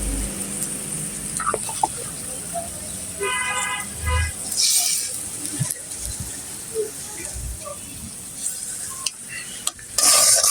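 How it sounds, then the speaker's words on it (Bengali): Onion, chili, ginger, garlic, turmeric, chili powder and salt frying together in a village kitchen pan, sizzling under repeated stirring knocks, with a car horn briefly sounding in the background. "মশলাগুলো কষিয়ে নেব।"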